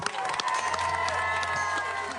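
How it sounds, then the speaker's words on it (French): Outdoor crowd applauding and cheering at a live televised village event, a continuous wash of clapping and voices with a low steady hum underneath, moderately loud throughout. "Sous vos applaudissements maintenant"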